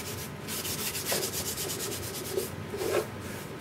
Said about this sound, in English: Scrub them in a little bit.